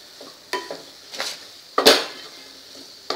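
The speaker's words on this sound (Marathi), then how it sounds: "आता आपल्याला ही थोडी थोडी घालून हलवून घ्यायचं आहे" Spring onion being stirred into turmeric-tinted masala in a pan over low heat, with four or five distinct scraping clinks of a utensil against the metal and a faint background sizzle, no voices.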